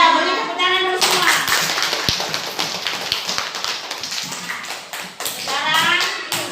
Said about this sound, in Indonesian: beri tepuk tangan dulu semua